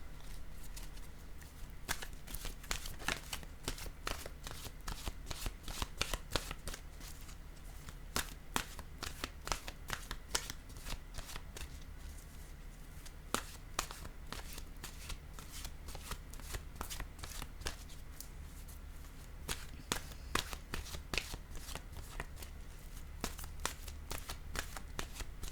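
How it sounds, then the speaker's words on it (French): Oracle cards shuffled by hand in a steady stream of crisp, rapid riffling slaps, close and continuous with a few brief pauses, no voices. "Je vais maintenant piger une carte de mon oracle de l'âme intuitive."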